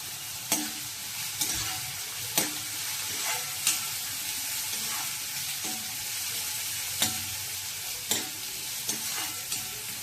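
Oil sizzles steadily in a pan as spices with asafoetida are tempered, while a spoon stirs and scrapes, making sharp clinks every second or so.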